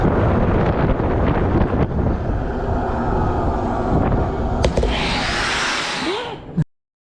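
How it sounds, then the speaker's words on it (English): Strong outdoor wind in Glenwood Springs rushes steadily and loudly against the microphone, a broad continuous roar for about six and a half seconds before cutting off abruptly. "that breeze feels so good"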